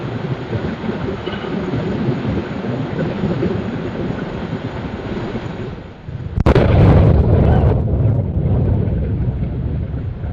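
A low rumble builds, then a sudden loud blast as a Blue Origin New Glenn rocket explodes, giving way to a heavy, sustained roaring rumble, as if heard from a distance.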